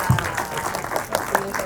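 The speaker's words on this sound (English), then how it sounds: "Can you give him a round of applause, Joshua?" Crowd applause at a movie premiere, with clapping spread across the whole clip, fairly steady, with some voices mixed in underneath.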